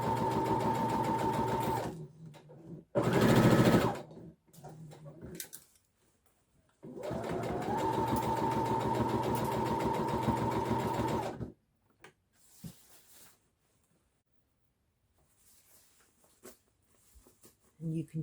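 A sewing machine stitches a set-in sleeve in bursts: a short run, a brief fast whir, then a longer steady stretch of rhythmic stitching, with pauses between where a voice talks close by.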